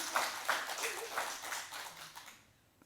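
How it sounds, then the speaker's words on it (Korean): Scattered hand clapping from a small congregation at a Korean church prayer meeting, a loose run of sharp claps that thins and fades away within about three seconds. "박수 한번 쳐주세요"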